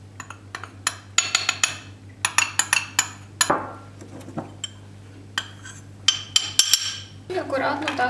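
Brownie batter being mixed by hand in a bowl after flour and baking powder go in, with repeated scraping clinks of utensil against the bowl in irregular bursts over a steady low hum.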